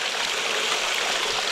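Water rushes steadily at Slaty Creek, a loud, close, even wash of flowing creek water with no break.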